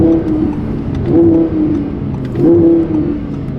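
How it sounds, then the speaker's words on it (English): Supercar performing a U-turn with a few quick downshifts, each a short rising engine blip, close and fairly loud with no talk. "Bunch of little fast downshifts, making a U-turn."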